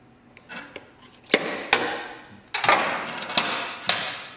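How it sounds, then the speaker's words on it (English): Metal-on-metal taps from a small slide hammer working a part loose on a Vespa S 150 engine during a Malossi/Polini kit install: about five sharp, close knocks at uneven intervals with quieter scraping in between. "Simple, small little slide hammer."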